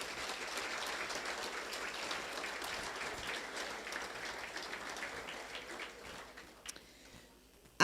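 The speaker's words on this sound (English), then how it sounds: "Just give them all a round of applause." A crowd applauds at a seniors best-and-fairest awards presentation, steady dense clapping that holds for several seconds and then thins out and fades.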